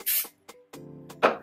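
Dry shampoo hisses from an aerosol can onto thin, fine hair in a few short close bursts, with soft handling noises in between.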